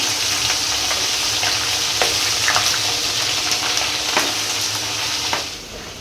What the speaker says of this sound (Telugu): ఇది పచ్చివాసన పోయే వరకు వేగించుకోవాలి